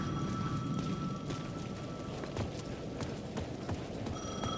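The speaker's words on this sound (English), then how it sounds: "The payphone at the edge of the plaza was ringing again." In the Alan Wake 2 video game, a payphone at the edge of a plaza rings in repeated electronic bursts over a low ambient background rumble, with no talking.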